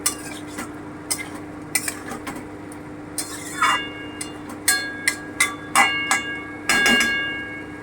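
Mutton liver and potatoes are stirred in a pan for kosha, a spoon scraping and clinking against the metal in irregular bursts over a low steady hum, with no voices.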